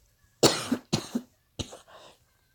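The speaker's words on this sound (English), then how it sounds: "Excuse me for the coughing again." Three harsh, close dry coughs in quick succession, the last one weaker and trailing off, with quiet between them.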